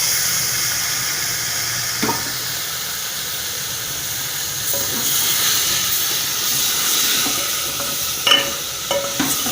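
Cauliflower and tomato sauté in oil with a continuous, loud hissing sizzle, broken by a few clinks and scrapes of stirring near the end.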